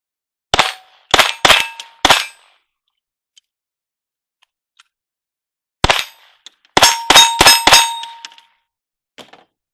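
Several sharp, ringing metallic strikes from a .50-90 Sharps rifle hitting steel targets come in two clusters, four close together and then five more, each a loud clang that decays quickly, with nothing else between them.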